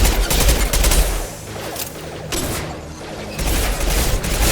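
Loud, dense gunfire from Mass Effect 2 comes in rapid bursts, falls quieter in the middle and picks back up into heavy firing at the end, with no voices.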